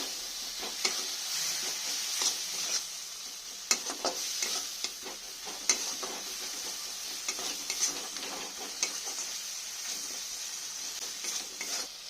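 Potatoes with green chillies and poppy seeds stir-fry in a wok, a steady hiss of frying oil under repeated scraping clicks of a spatula, fairly quiet and with no one talking.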